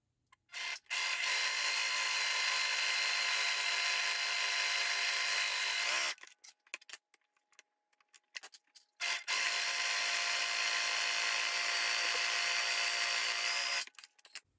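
A sewing machine stitches two pieces of fabric right sides together for a wine bottle bag, running in two long steady bursts of even mechanical whirring separated by a short pause with faint handling clicks.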